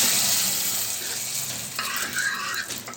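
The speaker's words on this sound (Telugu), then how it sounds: "ఇప్పుడు దోసకాయ పప్పులో ఇలా పోపు చేసుకోవాలి." Hot tempering of seeds, garlic, dried red chillies and curry leaves hisses and sizzles steadily as it is poured into cucumber toor dal, a loud, close, continuous frying sound.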